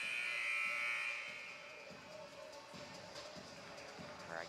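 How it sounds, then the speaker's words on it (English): A buzzer at a high school volleyball match between Fairborn and Northmont in Ohio sounds as a loud, steady electronic tone for about a second, then gives way to gym crowd murmur. "Or I guess I should call it a buzzer."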